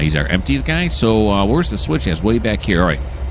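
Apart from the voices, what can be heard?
No everyday noise stands out behind the speech.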